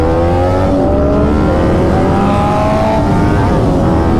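A Kawasaki Ninja 400 motorcycle's exhaust roars loud and close in a continuous revving tone whose pitch slowly climbs, with no voices heard.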